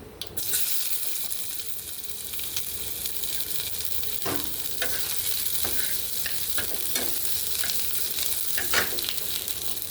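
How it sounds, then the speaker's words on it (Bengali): Fennel seeds and chopped onion fry in hot oil with a steady, close sizzle, broken by scattered crackles and sharp pops through the whole stretch, with no voice over it. "মৌরিটা ভাজা ভাজা হয়ে গেছে। একটু পেঁয়াজ দিয়ে দেবো, পেঁয়াজ কুচি,"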